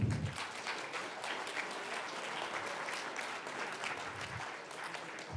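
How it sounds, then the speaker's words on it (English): An audience at an economic education quiz bowl and awards ceremony in Mesa claps steadily in an even, continuous round of applause lasting several seconds, with no talking over it. "So you should give yourselves a round of applause right now."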